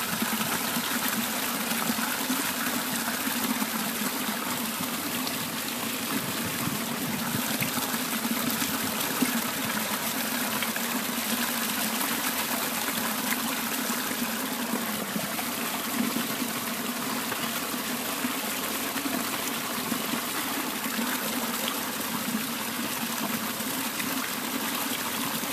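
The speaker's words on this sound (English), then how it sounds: "And then the joy of collecting from such a forceful outflow." Spring water gushes forcefully from a stone outflow at Eshton Spring in Yorkshire while a bottle is filled, a loud, constant rushing splash that holds steady throughout.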